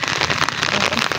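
Steady, dense rain falls hard outdoors, a constant hiss and patter of drops on surfaces with no pauses.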